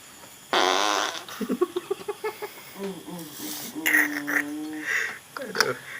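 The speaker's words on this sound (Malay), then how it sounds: "sampai terkentut dah eh" A loud, brief fart bursts out during work assembling an EX5 motorcycle engine, followed by laughter and chatter from people nearby.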